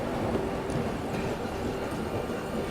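Steady rumble of the Vikramshila Express train running on its line near Prayagraj, heard from on board as a continuous broadband roar with no talk.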